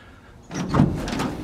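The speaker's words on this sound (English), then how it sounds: "this is pretty awesome, how easily the door closes" The door of a WW2 Chevy G7117 truck swings shut with a soft, solid thud and a brief metallic rattle after a moment of quiet, close by and without talk.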